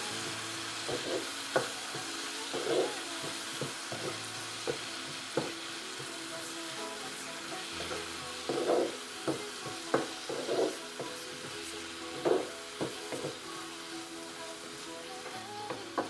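Tomatoes fry in a pan for a dish of eggs with tomatoes and onions, giving a steady soft sizzle broken by repeated scraping stirs at an uneven rhythm, fairly close.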